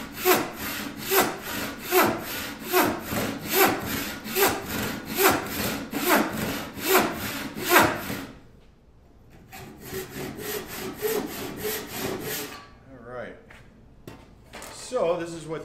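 Hand saw cutting through a walnut axe wedge, a steady run of about a dozen rhythmic back-and-forth strokes, a short pause, then another quicker burst of strokes, close and clear.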